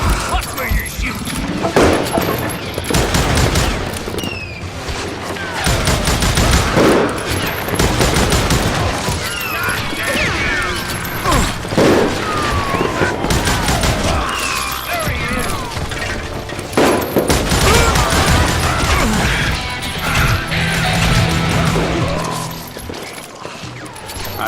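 Gunfire rings out during a saloon shootout in the video game Call of Juarez Gunslinger, with repeated sharp shots and volleys spread over a long, busy stretch. Mechanical clatter and raised voices mix in.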